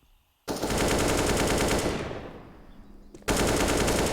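Sustained automatic gunfire from Counter-Strike rifles spraying through walls on the Ancient map, loud continuous bursts that fade briefly before a fresh volley resumes.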